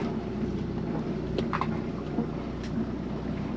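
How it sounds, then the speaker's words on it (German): Inboard engine of a sailing yacht running at anchor in French Polynesia near Raiatea, a low steady drone with faint wind noise and a few brief knocks, continuous and without talk. "Motor läuft wie eh und je."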